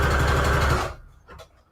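A sewing machine stitches fabric and lace scrap trim, giving a close, loud, steady motor whir that stops abruptly after under a second, followed by a faint click.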